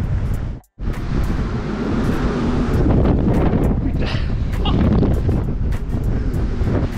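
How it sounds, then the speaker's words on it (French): A strong gust of wind buffets the microphone on a clifftop overlooking a rough sea, a loud, continuous roaring rumble with a brief dropout near the start, then sustained blustering. "J'ai pris une bourrasse de vent,"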